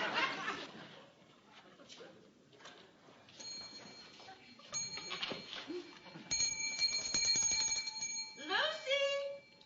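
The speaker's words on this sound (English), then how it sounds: "if I don't jump every time she rings that bell" A small hand bell rung by a demanding employer in a classic sitcom household, its bright metallic tones ringing repeatedly in the second half over laughter and room noise.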